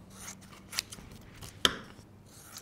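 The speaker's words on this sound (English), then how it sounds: "I'm just going to do it with my scissors very quickly." Paper being trimmed quickly with craft scissors at a tabletop crafting session, a couple of sharp snips standing out over soft rustling and handling noise, close and fairly quiet with no talk.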